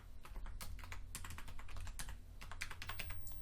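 Rapid clicking keystrokes on a computer keyboard as a password is typed, close and steady with brief pauses between bursts of keys, no voices.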